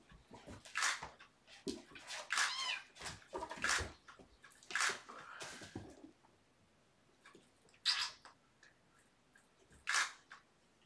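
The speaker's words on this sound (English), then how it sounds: "Some cats are just more vocal about their play." Kittens meow in short, high, tonal bursts while playing, several calls spaced across the stretch, close and fairly quiet, with softer rustling between them.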